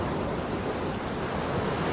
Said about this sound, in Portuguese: você consegue ouvir o barulho do mar.